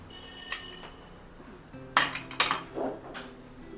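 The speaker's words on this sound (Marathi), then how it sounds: "तेव्हापर्यंत आपण कुकर खोलूया." A metal pressure cooker of cooked dal is opened in a home kitchen with a few sharp metallic clanks and clinks of the lid, spaced over a few seconds against quiet background hum.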